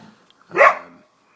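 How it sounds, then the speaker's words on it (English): A single loud dog bark rings out close by outdoors at a camp stove setup, one short sharp burst with quiet before and after. "Apologies for the dog, it will bark"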